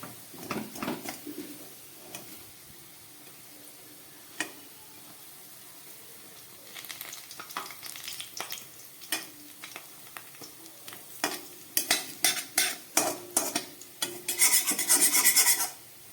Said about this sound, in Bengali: একদম গ্যাস কমিয়ে বড়াগুলোকে আমি ভেজে নিচ্ছি।